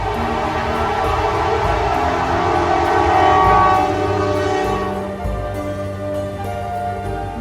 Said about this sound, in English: And 113, which we nearly missed, had an excellent horn from